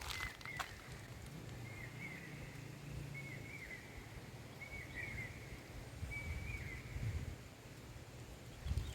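Faint birds chirping in the distance in a Konkan village, a few short high calls repeating over quiet wind and rustling ambience.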